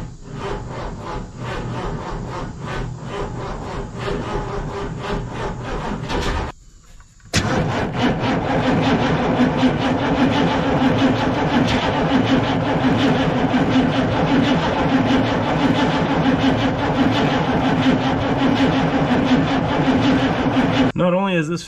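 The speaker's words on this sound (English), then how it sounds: "we're going to have to crank the engine over until fuel squirts out of there" A Humvee engine cranks over repeatedly without catching while its fuel system is bled after a fuel filter change. The starter churns loud and rhythmically, stops briefly, then resumes for a long, sustained crank.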